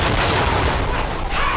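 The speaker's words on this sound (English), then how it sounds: "while explosions are happening" Explosions on a film set for the movie The Lost City roar as a dense, continuous wall of loud, rumbling blast noise that fills the whole short span.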